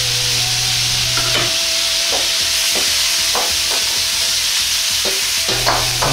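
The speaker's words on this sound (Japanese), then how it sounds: "水気を切ったじゃがいもを入れ炒めていきます。" Drained potato pieces sizzle loudly in sesame oil in a pan, with ginger added, a close, continuous frying hiss punctuated by repeated spatula stirs and tossing scrapes.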